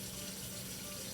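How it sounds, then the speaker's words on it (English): Hot dish water running from a kitchen tap, heard as a steady, close, hissing stream that pours without a pause. "Always have some nice soapy hot dish water ready to go"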